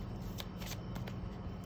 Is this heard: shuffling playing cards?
yes